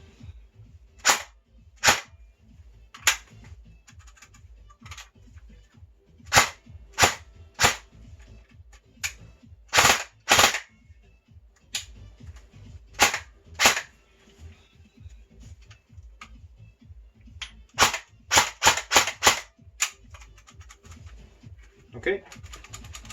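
An LCT VSS airsoft rifle being test fired, sharp close snapping shots, singly and in quick bursts, separated by quiet gaps.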